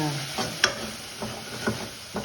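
Okra for sambar frying in a pan with chili powder being stirred in, giving a soft, continuous sizzle with several faint scraping taps of a utensil.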